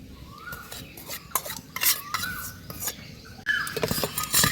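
A spoon stirring sugar into milk in a steel bowl, repeated scraping swirls and bright metallic clinks in an uneven rhythm, close and fairly loud, without speech.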